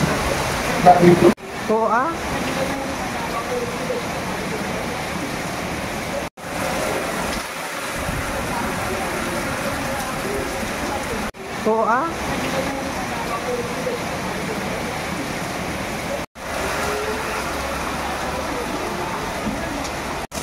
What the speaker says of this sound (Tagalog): ang lakas ng ulan guys, as you can see